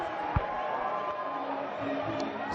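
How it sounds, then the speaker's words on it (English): A Zimbabwean crowd at a T20 cricket match against Pakistan cheers a boundary, a steady, moderately distant roar of many voices with one brief thump near the start. "Zimbabwean crowd here have been brought to their feet"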